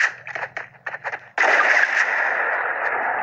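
Gunfire in a battle royale shooting game: a rapid string of sharp shots, then a sustained loud burst of firing and reverberating noise.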